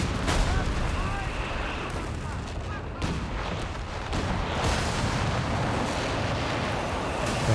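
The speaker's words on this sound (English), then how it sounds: "Back alley barrage coming in with the phosphorus." In Company of Heroes 3, a white phosphorus artillery barrage lands in a back alley, a busy mix of booming impacts, sharp cracks and crackling debris over steady battle noise, with voices briefly heard underneath.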